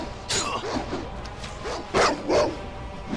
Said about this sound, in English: Now for these wild dogs.